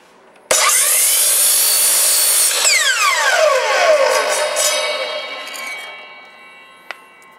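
A chop saw makes a miter cut through wood: a sudden loud spin-up whine, a sustained cutting roar with a falling pitch sweep, then winding down and fading before a brief click near the end.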